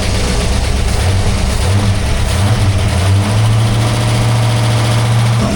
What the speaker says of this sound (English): See how the exhaust sounds.